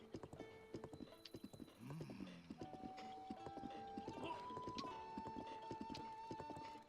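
A horse in Zelda: Breath of the Wild clip-clops at a trot, then gallops in a fast, even beat of hooves with a whinny in the middle, up close and game-made, with a rising musical tone over the hoofbeats.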